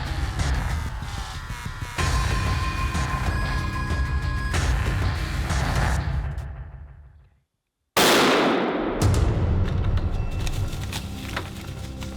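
A rifle shot fired at a bear while hunting, bursting out loud and sharp after a brief silence, with a ringing echoing tail over steady wind-like outdoor noise.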